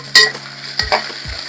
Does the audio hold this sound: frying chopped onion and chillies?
yes